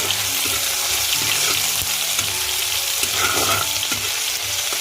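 Masala- and salt-coated prawns frying in a pan with ginger-garlic paste, a steady loud sizzle broken by scraping stirs and clinks of a spatula, with no voices.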